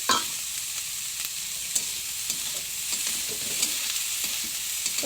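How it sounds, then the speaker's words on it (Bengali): Sliced capsicum sizzles steadily in a hot pan, with a constant hiss of frying oil and occasional light scrapes and taps of stirring, close and fairly quiet, no voices. "এটা দিয়ে দেওয়া হচ্ছে ক্যাপসিকাম এবার ভেজে নেওয়া হচ্ছে"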